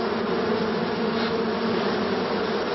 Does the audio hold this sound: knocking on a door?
no